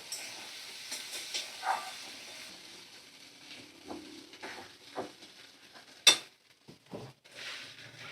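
Spices stirred in a pan over a medium flame give a quiet, uneven sizzle broken by soft scraping strokes, with one sharper clatter near the end.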